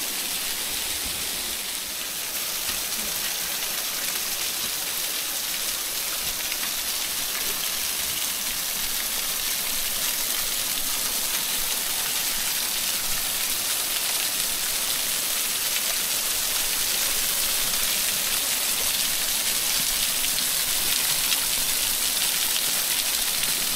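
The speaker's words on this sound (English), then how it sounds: "This is the waterfall where you can go inside." A waterfall in the Blue Mountains, heard from behind the falling water, gives a constant, broad hiss of splashing like heavy rain. It stays steady and fairly loud from start to finish.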